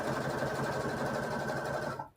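A sewing machine runs continuously while stitching the waistline of an upcycled skirt, a steady close mechanical whir that stops abruptly at the end.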